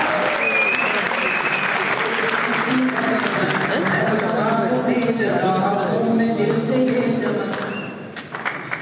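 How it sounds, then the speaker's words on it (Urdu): A convention crowd applauds loudly and steadily as a youth leader is welcomed to the stage, with dense clapping throughout, voices audible beneath it, and the applause thinning out at the very end. "زوردار تالیوں کی گونج میں تشریف لا رہے ہیں سید مجاہد گیلانی صاحب۔"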